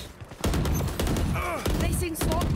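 Rapid video game gunfire cracks and pops in dense bursts. Shouted speech runs over it.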